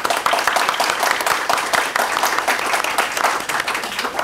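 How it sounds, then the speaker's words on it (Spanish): Lively audience applause at a Spanish-language book presentation, dense, close and steady clapping from a crowd that continues throughout without speech. "Rogelio se merece un aplauso."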